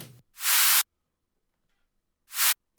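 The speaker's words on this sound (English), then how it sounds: "You have like kind of a white noise in every kick that plays this groove." Bursts of bright white noise layered on kick drums in an FL Studio dance track, two loud broadband hits separated by silence, each about half a second long with abrupt cutoffs.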